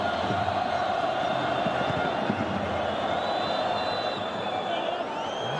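Stadium crowd at a World Cup qualifying football match between Jordan and Uruguay, a dense steady roar with scattered whoops and cheers that holds loud throughout, without a clear swell, as play builds toward a corner.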